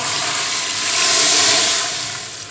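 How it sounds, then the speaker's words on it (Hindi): Water pours steadily from above into a cooking pot of beef trotters, a continuous loud splashing rush that swells midway and eases off toward the end, with no talking. "ये मैंने इस बर्तन में ऐड कर लिए हैं और इसमें हम पानी डालेंगे"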